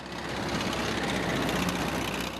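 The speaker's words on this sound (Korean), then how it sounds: "산길을 오르기 쉽게 만들어진 트랙터도 몇 번씩 공회전을 반복한다" A heavy tractor engine drones and revs steadily up close on a frozen, snowy mountain slope, a dense low rumble with rough knocking texture throughout.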